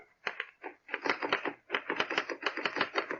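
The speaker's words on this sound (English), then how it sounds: "is seated at a desk, typing." A man at a desk types on a typewriter in a large room, rapid uneven clacking keystrokes in quick bursts with brief pauses, close and clear.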